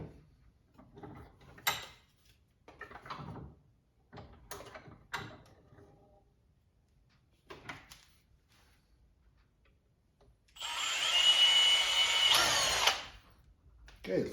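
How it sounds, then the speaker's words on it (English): A power drill bores a couple of small holes in a part for mounting to a stud on a Harbor Freight square drop camper, one loud sustained burst of about two seconds, after a stretch of quiet handling and clicks. "I'm gonna try drilling just a couple little holes in it so I can mount it to the stud"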